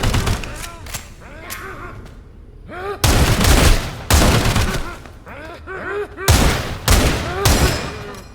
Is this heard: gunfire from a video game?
yes